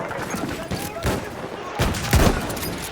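Sniper rifle shots ring out in a Battlefield game, a few sharp, loud cracks at irregular intervals amid other battle noise, with a player talking.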